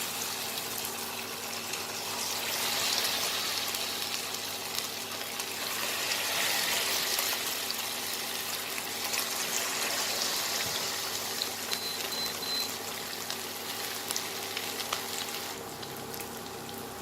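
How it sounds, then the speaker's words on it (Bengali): Eggs dipped in batter deep frying one by one in hot oil for a Chinese-style chilli egg dish, giving a steady, close bubbling sizzle that holds evenly throughout with no talking. "এবার আমি ব্যাটারের মধ্যে একটা একটা করে ডিম চুবিয়ে আমি ওটাকে ভেজে নেব"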